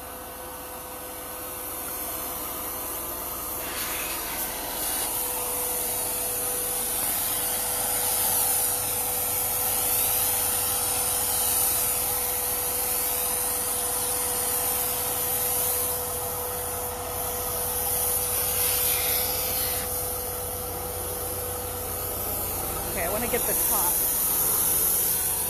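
A Wagner home decor paint sprayer spraying a single coat, giving a loud continuous airy hiss that runs steadily throughout with small surges and a few brief dips.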